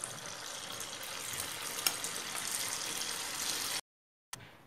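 Cauliflower pieces deep frying in hot oil for gobi manchurian, giving a steady, faint hiss and sizzle close by, briefly cut to silence before the fizzing resumes.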